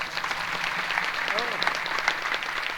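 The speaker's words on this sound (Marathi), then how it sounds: "एकदा गोट टाळ्या वाजा" A crowd applauds steadily, a dense wash of clapping with voices murmuring underneath.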